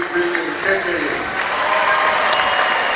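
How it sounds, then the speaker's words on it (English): Crowd applause at a girls' high school basketball championship game in a gym, sustained clapping and cheering filling the space at a steady loud level, with a commentator talking over it. "Grace Furs getting a big round of applause."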